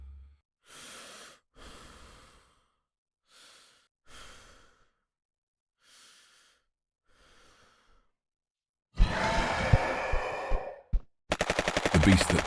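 Audio drama sound effect: a string of heavy breaths gives way to loud volleys of rifle fire, a dense roaring burst followed by a rapid run of sharp shots right at the end.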